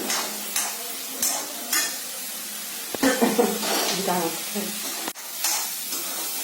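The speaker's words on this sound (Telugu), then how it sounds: "క్యారెట్ చక్కగా నెయ్యిలో వేగింది" Grated carrot frying in ghee for carrot payasam gives a steady soft sizzle, broken by several short stirring scrapes and clinks of a spoon against the pan.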